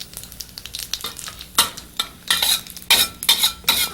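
Cinnamon stick, cumin seeds, cardamom pods and cloves sautéing in a hot pan, crackling and sizzling in bursts as they are stirred, with sharp spoon scrapes and clicks up close and no talking.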